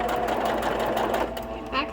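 A sewing machine runs a quick back stitch on a sunglasses case, a rapid mechanical whir that stops briefly and then resumes.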